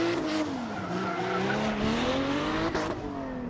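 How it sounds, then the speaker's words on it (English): A drift car spins out on the Willow Springs track in California, its engine droning loudly and shifting in pitch as the tires squeal and skid continuously throughout. "Dylan trying to play catch up, and he accidentally spins out."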